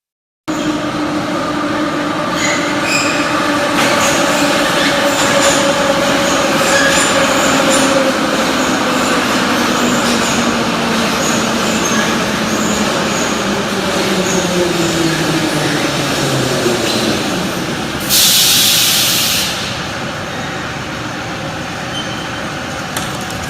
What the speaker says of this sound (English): I put this one in here to listen to the brakes at the end.